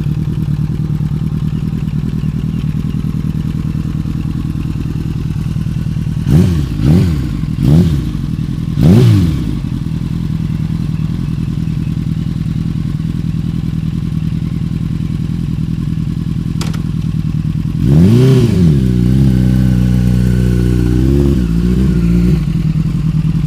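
A Honda Blade motorcycle pulls away after idling to warm its tyres. The engine idles steadily, then gives several sharp revs. After a pause it accelerates hard, and the tone climbs and falls through the gears as the bike moves off.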